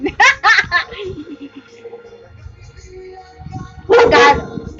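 A pet dog makes noise indoors in short, loud bursts, one cluster near the start and another near the end, with quieter shuffling between.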